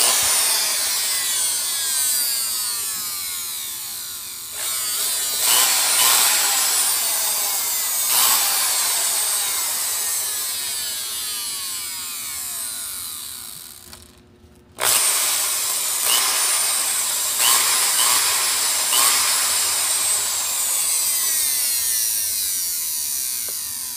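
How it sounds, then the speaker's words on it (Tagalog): A weak but working hammer drill runs steadily at close range, its grinding drive sound continuing throughout with brief surges and a short dip near the middle before picking back up. "hammer drill. Mahina, pero gumagana siya."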